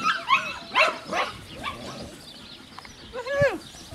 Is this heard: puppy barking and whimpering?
yes